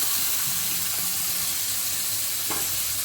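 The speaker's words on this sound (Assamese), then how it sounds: "এতিয়া মই কাটি থৈ দিয়া বন্ধাকবি ফাল আৰু আলুখিনি দি দিছোঁ এনেদৰে" Chopped cabbage and potatoes hit hot oil in a frying pan while cooking Assamese muri ghonto, giving a steady, loud broadband sizzle with a brief stir or clink near the end.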